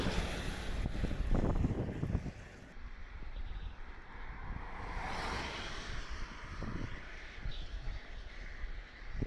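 Rain and wind outdoors: blustery gusts buffet the microphone in a steady, rumbling roar, loudest at first and then settling into a continuous rush of noise.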